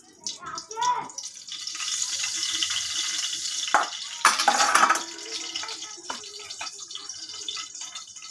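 Gram flour batter made with fish oil frying in a kadai of hot oil, a continuous close sizzle with scattered clinks and stirring sounds, with a louder burst midway.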